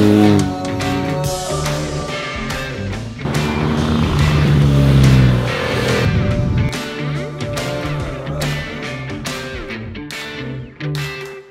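Several Yamaha and Honda motorcycles idle and rev on a sunny club ride out from London, engines rumbling loudly and steadily with throttle blips rising and falling throughout.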